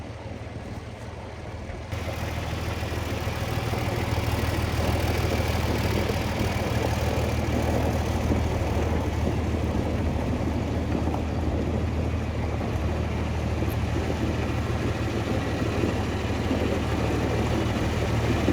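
A dually tractor with twin rear wheels idles outdoors on a field, a steady low engine rumble that grows louder after the first two seconds and holds unchanged, with no voices.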